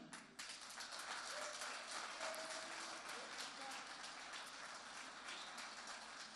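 Applause from a debate audience after a candidate is called to the podium at a 2019 presidential debate; a faint, steady wash of clapping runs throughout, with some voices underneath.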